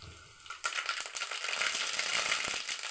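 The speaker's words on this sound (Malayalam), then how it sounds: "കടുക് പൊട്ടി" Mustard seeds spluttering in hot oil for a South Indian avil uppumavu, a loud crackling burst starting after a quiet half second and continuing as dense, rapid popping close by.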